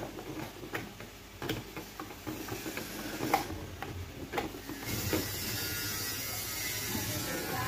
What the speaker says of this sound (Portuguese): Começar tirando essa hélice adaptada que colocaram aqui.